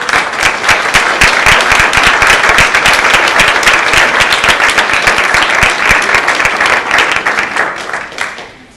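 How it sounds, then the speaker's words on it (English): At an AmeriCorps anniversary swearing-in ceremony, a crowd gives past members a loud, dense round of applause that continues for about eight seconds before tapering off. "A round of applause."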